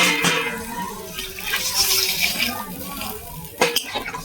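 Water poured from a ghoti, a small metal vessel, into a cooking pot of cabbage dhoka curry, a splashing gurgling pour with metallic clinks of pot and utensil, ending in a sharper clatter.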